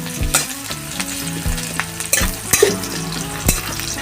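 Chopped onions frying in oil for a village-style mushroom masala, a close sizzle broken by sharp scraping and stirring knocks at irregular intervals.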